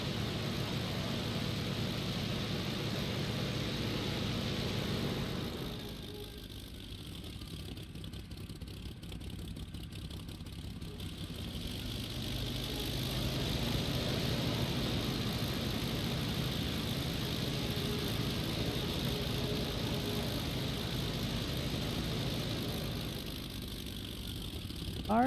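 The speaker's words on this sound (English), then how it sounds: "Let's go ahead and turn off the engine." A Bf 109 F4 aircraft engine idles on an airfield in the IL-2 combat flight game, giving a steady mid-pitched rattling drone that dips briefly and then returns, with no voices.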